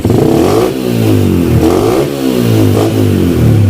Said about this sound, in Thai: นี่ครับเร่ง